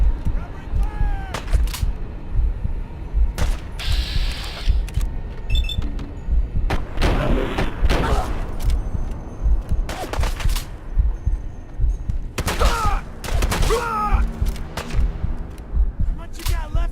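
Gunfire from the video game Fallout 4, bursts and single shots scattered through a busy battle mix, with voices shouting in the fight.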